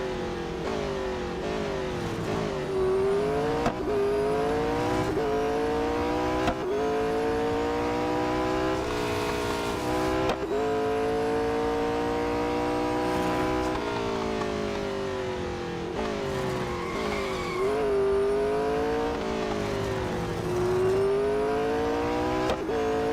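Race car engine in the game Real Racing 3, loud and continuous, with the revs repeatedly climbing and dropping through gear changes, holding close and steady for the whole stretch.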